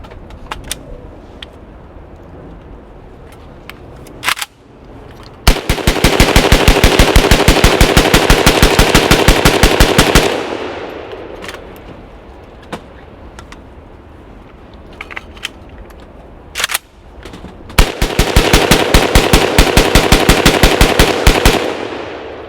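A machine gun fires at close range in two long, loud bursts of rapid shots, with scattered single clicks and handling noises between them.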